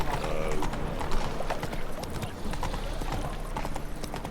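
Horse hooves clip-clop at a steady gallop rhythm in The Witcher III: Wild Hunt, continuous and fairly loud over game ambience, with a brief voice near the start.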